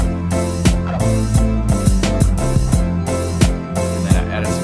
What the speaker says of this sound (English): this one actually has a harpsichord in it